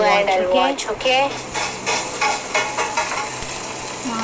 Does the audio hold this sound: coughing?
no